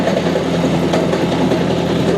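AGT KKTA27 mini skid steer with its engine running close by, a loud, steady low rumble with a slight rattle throughout the short stretch. No one talks.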